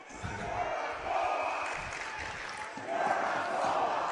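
A high school girls hockey student section of about a hundred fans chanting a rhythmic cheer in the rink, voices rising and falling in repeated waves, loud and crowd-filled.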